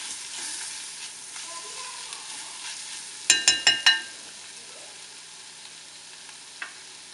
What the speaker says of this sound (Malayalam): ചേർത്ത് നന്നായിട്ട് വഴറ്റിയെടുക്കാം.